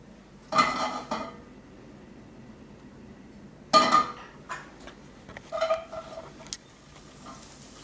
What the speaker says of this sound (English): So you can kind of hear it sizzling off now.